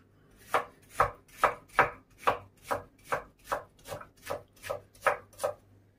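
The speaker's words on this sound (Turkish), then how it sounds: "Bunları doğrayacağım şimdi." A knife chops onions on a board in a steady run of about a dozen crisp, evenly spaced strokes, close and clear with no talking.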